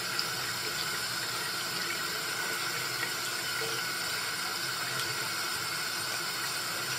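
Tap water runs steadily over a makeup brush being rinsed at a sink, a continuous close hiss of flowing water with no pauses and no voices.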